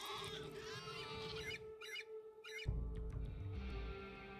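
Birds in the video game RimWorld give a run of loud honking squawks, then harsher squawks over low in-game noise, with no talking.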